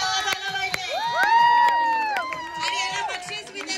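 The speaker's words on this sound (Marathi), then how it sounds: "टाळ्यांचा आवाज आला" An audience at a Navratri costume contest cheers, with high whooping shouts rising and falling over scattered claps for a few seconds.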